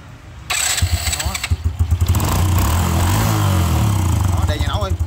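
A Honda Wave Thai 110 motorcycle, a late-1990s to 2000s model with a leaking exhaust, is started during a carburetor and fuel tank test: a brief cranking, then the engine catches and idles loudly with a rough, uneven putter while someone talks.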